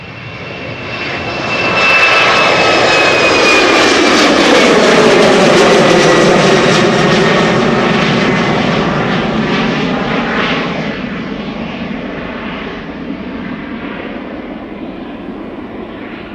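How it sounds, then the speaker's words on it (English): A KLM Embraer 190 jet departs Amsterdam Schiphol, its engine roar swelling loud and close, then slowly fading as it climbs away. "another Embraer 190 coming this way. KLM flight 1945."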